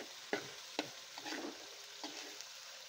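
Garlic fried rice (sinangag) frying in leftover adobo oil, with a few sharp scraping stirs of a spatula over a soft, steady sizzle; no talking.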